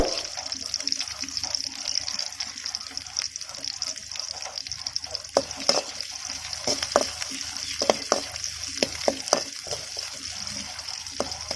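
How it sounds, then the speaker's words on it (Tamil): Sliced onions and dried chillies fry in a pan for a village-style mushroom dish, making a steady close hiss broken by scattered clicks and scrapes of stirring. "வெங்காயம் வதங்கவும் நாம் வச்சிருந்த வத்தலை உள்ளே சேர்த்துடலாம்."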